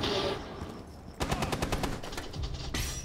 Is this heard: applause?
no